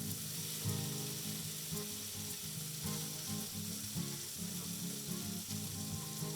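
Garlic fries in a pan on moderate heat, a constant dense sizzle with fine crackling, steady and close throughout with a low hum underneath, no one speaking.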